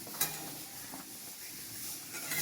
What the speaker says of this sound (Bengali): একটু মোটা মোটা করেছি বলে একটু বেশি করে ভেজে নিই